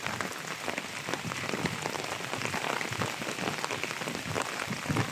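Rain falls steadily at a fish pond, a dense, even patter of drops on surfaces, close and continuous with no voices.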